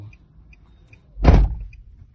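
A Nissan car door opens with a single short mechanical clunk and brief rustle, close and fairly loud, preceded by faint regular beeps in a quiet setting.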